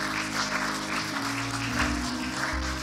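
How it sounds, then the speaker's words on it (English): A church congregation breaks into a round of applause, a steady wash of clapping that holds for a few seconds without a break. "Let's give him a round of applause"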